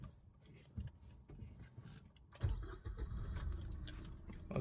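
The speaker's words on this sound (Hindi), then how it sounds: "मैं गाड़ी को पहले स्टार्ट कर लेता हूँ।" A Maruti Suzuki Swift is started: keys rattle in the ignition, then around the midpoint a louder, steady low engine rumble begins and runs to the end, close by but fairly quiet.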